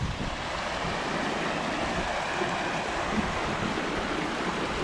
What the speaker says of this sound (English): The waterfall there, very pretty.